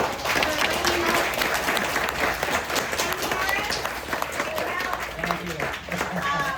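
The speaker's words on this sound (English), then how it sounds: "a round of applause for Marissa" Seminar attendees give a presenter a round of applause after a property talk, a continuous, fairly close burst of many hands clapping with voices mixed in.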